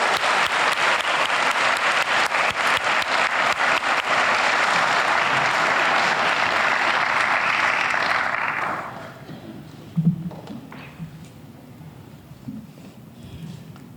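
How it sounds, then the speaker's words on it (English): An outdoor crowd at a Memorial Day ceremony applauds loudly and steadily for about eight seconds. The clapping then fades out into quiet background noise and a few scattered sounds. "Can we get another round of applause for them,"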